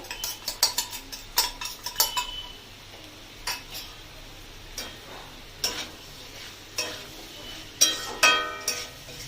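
Turmeric, coriander, cumin and Kashmiri chili powders stirred in a pan for a ridge gourd dish: intermittent metallic clinks and scrapes of a spatula, clustered in short bursts with quiet gaps, over a faint low hum.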